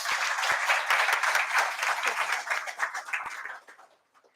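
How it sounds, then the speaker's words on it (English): An audience breaks into steady applause welcoming a speaker at a civil services society event, dense clapping that holds for a few seconds and then tapers off into silence. "Please welcome him with a big round of applause."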